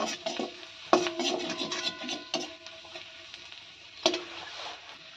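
Chopped garlic frying in butter in a wok, a close continuous sizzle broken by a few sharp metallic clinks of a spoon or spatula against the pan, with stirring in between.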